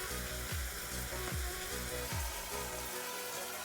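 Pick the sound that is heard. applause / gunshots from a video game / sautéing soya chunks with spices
sautéing soya chunks with spices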